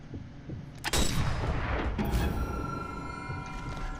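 Sniper rifle fire in the video game Sniper 4, set at a monastery: one sharp, loud report near the one-second mark with a long rumbling tail, a smaller crack after it, and game ambience underneath.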